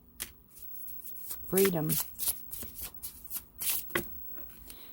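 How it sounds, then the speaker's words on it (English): Tarot cards are shuffled by hand in a series of quick riffling bursts and soft flicks close to the listener, with a voice speaking briefly over them. "Pull a love card for you."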